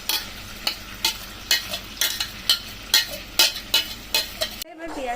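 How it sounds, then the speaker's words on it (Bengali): Ground onion paste fries in oil with two dried red chillies in a pan, a soft sizzle broken by a regular series of scraping stirs, about two per second, before a brief pause. "এবার পেঁয়াজটাকে ভাজবো।"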